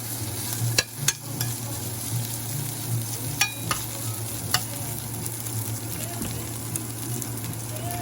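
Meat browns in a pan for a mushroom barley soup, its fat cooking off with a soft, fairly quiet sizzle over a low steady hum, marked by a few sharp clicks of stirring.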